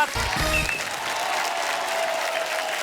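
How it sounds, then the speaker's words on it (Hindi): A television comedy show audience greets an arriving celebrity guest with loud, sustained applause that stays steady throughout, with a few low music notes sounding at the very start. "आप सबकी जोरदार तालियों के बीच प्लीज वेलकम दिया मिर्जा।"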